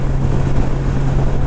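A 2014 Honda Valkyrie motorcycle cruising at 60 mph with its engine at 2,700 RPM gives a steady, loud low drone under heavy wind rush, with no talk.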